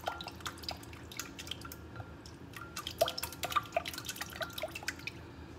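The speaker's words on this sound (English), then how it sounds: "Right now I'm mixing the egg in with the yeast," Egg being mixed with yeast in a bowl for condensed milk rolls, giving soft wet clicks and squishy drips that run steadily throughout, a little busier in the second half, with no talking.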